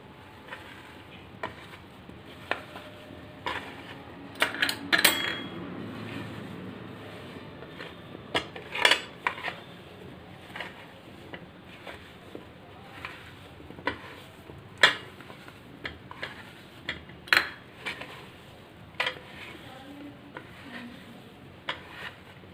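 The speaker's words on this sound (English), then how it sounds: "Now we'll mix it nicely." Soya manchurian ingredients mixed in a bowl with a utensil, producing irregular scattered clinks and taps against the bowl over a soft wet stirring background, close and fairly quiet, no talking.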